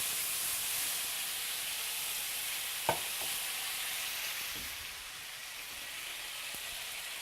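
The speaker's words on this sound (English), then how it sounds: "Now we're going to deglaze the pan with our soy sauce and ginger mixture" A steak pan deglazed with a soy sauce and ginger mixture sizzles steadily and loudly throughout, with a few brief utensil clinks as it is stirred; no talking.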